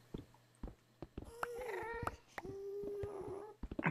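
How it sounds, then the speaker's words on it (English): Cats meow around the player in Minecraft Feed The Beast, with several drawn-out tonal mews that rise and fall, mixed with regular blocky footstep or digging clicks. The sounds are faint and there is no talk. "I can hear all these cats around us."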